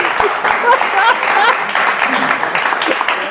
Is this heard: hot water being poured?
no